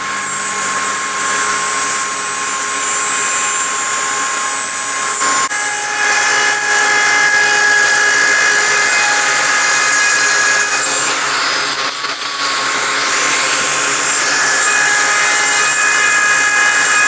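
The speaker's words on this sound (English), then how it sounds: "gotta get a router out, router all this out" A wood router cuts out the top of a live edge end table, a loud continuous high-pitched whine that runs for about seventeen seconds with slight changes in pitch as it bites into the wood.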